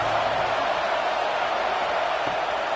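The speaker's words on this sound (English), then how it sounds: "This crowd bringing the energy and noise early." Football stadium crowd at an Alabama versus Texas A&M game, a steady broad roar of noise and cheering held at constant loudness throughout, with no distinct voices standing out.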